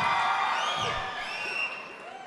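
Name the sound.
audience clapping and cheering at film event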